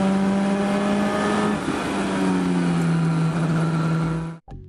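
A DeltaWing race car with a heavily tuned 300-horsepower Nissan Juke 1.6-litre turbocharged petrol engine drones loud and steady, its pitch sagging midway, before the sound cuts off abruptly near the end.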